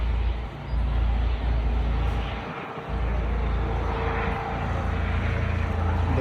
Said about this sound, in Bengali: দেখো একটা হেলিকপ্টার যাচ্ছে।